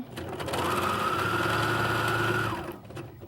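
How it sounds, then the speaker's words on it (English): A serger sews a seam through lace pieces placed right sides together, running as a steady fast mechanical whir for about two seconds, starting and stopping cleanly, with no voices. "I'm simply going to put a piece of lace right sides together on this and serge my first seam."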